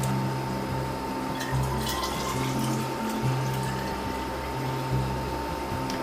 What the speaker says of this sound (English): And then we fill this with water.